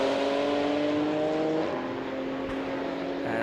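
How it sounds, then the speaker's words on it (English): A BMW GT4 race car runs around the Hungaroring circuit during a GT race, its engine a steady, moderately loud drone with a slight pitch change as it goes by. "There is the GT4 BMW driven by Zeno Kovac, Trevor Racing's squad."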